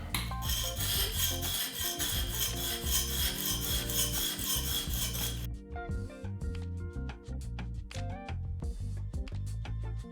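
A knife being sharpened on a whetstone in a guided rod-style sharpener: steady close rasping strokes, dense and continuous at first, then lighter, separate scraping passes with small clinks.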